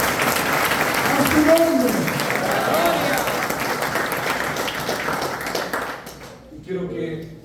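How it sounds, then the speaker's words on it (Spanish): Loud applause from a church conference congregation, dense clapping sustained for several seconds under a voice before fading out. "Dale un fuerte aplauso al Espíritu Santo"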